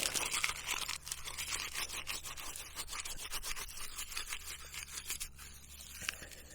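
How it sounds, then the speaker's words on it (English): A stick being scraped with a blade to raise shavings outdoors, giving dense repeated rasping strokes, close and fairly steady, with no talk. "so you want to do a stick here, kind of create some shavings"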